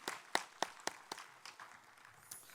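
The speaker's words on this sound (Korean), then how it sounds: "함께 영광의 박수를 올려드립니다." A church congregation at a Wednesday service claps briefly, several sharp claps ringing out then tapering off in a small room, fairly faint and without voices.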